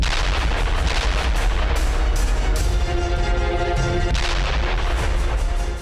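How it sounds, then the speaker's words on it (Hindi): Bombs strike during military operations in southern Lebanon. Loud, dense booms and blasts roll together without a break, forming a constant, heavy roar of explosions. "दक्षिणी लेबनान में ग्राउंड ऑपरेशन के साथ हिजबुल्लाह के ठिकानों पर भी बम बरसाए जा रहे हैं"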